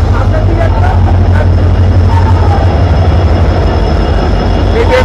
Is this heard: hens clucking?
no